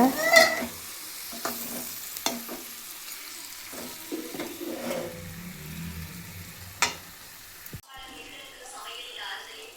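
Dried squid being stirred into a tomato and onion masala in a pan, with scraping and sizzling bursts recurring through the clip and a person talking over the cooking.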